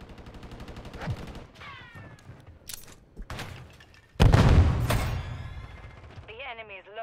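Gunfire in a ranked multiplayer video game match: sharp shots and bursts, with a loud heavy blast midway, mixed with game sound effects and a voice talking over it.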